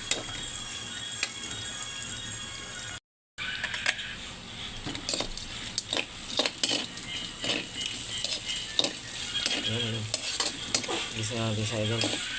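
Pork sisig sautéing in a hot pan, a steady loud sizzle broken by stirring scrapes and clinks of a utensil against the metal, with a brief dropout early on and no talking.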